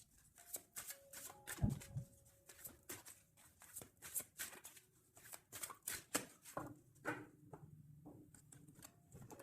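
A tarot card deck being cut and shuffled by hand, soft irregular riffling and slapping of cards close up, with brief pauses between bursts.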